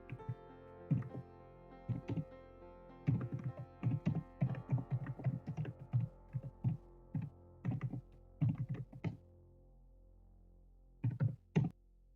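Fingers type a prompt to ChatGPT on a computer keyboard, giving close, crisp keystrokes in irregular bursts with brief pauses between runs, and no talking.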